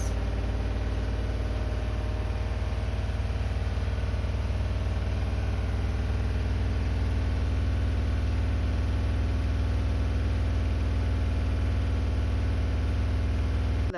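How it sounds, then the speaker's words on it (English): A washing machine on its spin cycle gives a loud, steady droning hum with a low rumble and a faint high whine, running unbroken and close throughout. "the washing machine has decided to go to spin now"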